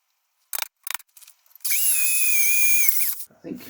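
An electric drill bores a hole in the metal of a Ford Escort MK1 with wood backing behind, a steady high whine lasting about a second and a half after a few short clicks and bursts of handling noise.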